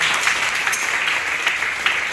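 An audience applauds loudly and steadily at a church message event, with a brief burst of clapping sustained for the whole moment.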